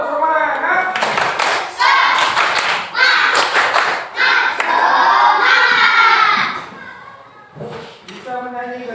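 Children in a school classroom chanting and clapping a 'tepuk semangat' spirit clap, rhythmic bursts of loud, close hand claps in set patterns woven between shouted chanted voices.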